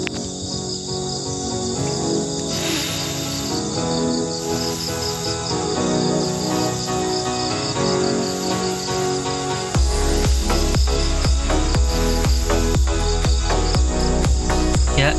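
Apis cerana honeybees humming steadily around their nest during a transfer to a hive box, a continuous dense drone with a high insect-like shimmer, joined midway by a louder, rougher layer of background noise.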